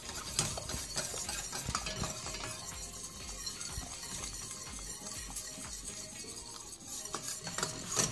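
Lemon cream is stirred continuously in a pan with a whisk, producing quick, irregular scraping and light metallic clinks against the pan, close and fairly busy throughout, with no talking.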